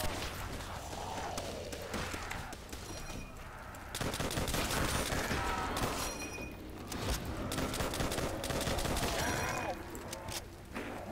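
Rapid M1 rifle gunfire in Call of Duty Nazi Zombies on the Verrückt map, dense bursts of shots layered with game effects and a voice speaking throughout.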